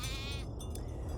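Sheep bleat in the farming game Farm Together 2, a single wavering call with a rising, nasal tremble lasting about half a second, followed by quieter ambient game sounds with no talk.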